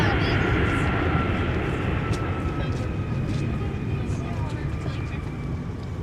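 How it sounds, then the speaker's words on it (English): A Sun Country jet arriving from Cancun at MSP airport in winter gives a continuous broad engine roar and whine, loud and steady throughout, with radio chatter and a voice speaking over it. "Sun Country jetting in from Cancun."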